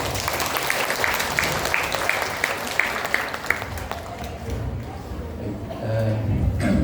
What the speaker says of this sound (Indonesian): kita sambut narasumber kita, Ayah Irwan, dengan tepuk tangan yang meriah.